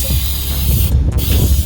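A $2 can of hairspray sprayed onto a stick of chalk, a close, loud continuous aerosol hiss lasting a second and a half with a brief break near the end.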